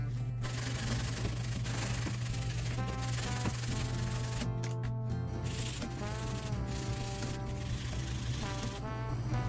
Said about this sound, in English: We're gonna hit this down with 80 grit on a sanding block